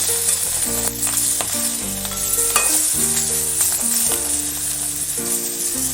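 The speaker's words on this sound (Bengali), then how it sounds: "মাথাটা ভালো করে ভেজে নিয়েছি" Hilsa fish head frying in oil, a continuous bright sizzle with crackles, under a steady musical background, loud and close throughout.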